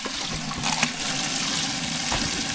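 Water pours steadily into a mix being stirred during communal outdoor work, a continuous splashing gush with no voices over it.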